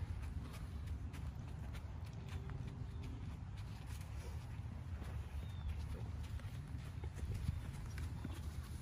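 Steady clip-clop of horse hooves walking at an even pace, with soft rhythmic thuds over a low outdoor rumble.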